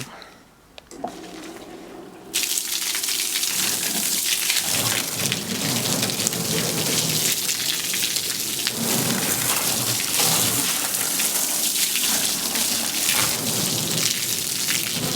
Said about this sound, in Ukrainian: Ось таким струменем вже можна і мити щось.